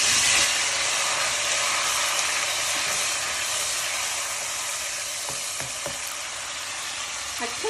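Large tomato chunks frying in very hot oil in a dechki pot for a restaurant-style chicken karahi, a dense, steady sizzle and hiss with faint stirring clicks, close up throughout.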